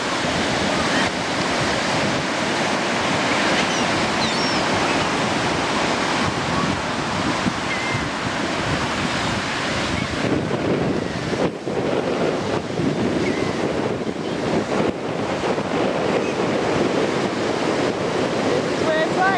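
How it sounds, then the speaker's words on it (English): Continuous rushing surf of ocean waves breaking and washing in at the beach, steady and loud, with wind buffeting the microphone. "In and then out when the waves come."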